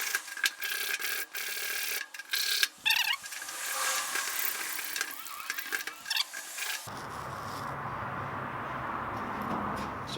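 Ferro rod scraped against a Nature's Sparks fire starter, a run of sharp rasping strikes and scratches in quick irregular bursts, close up, followed by a softer continuous crackling hiss.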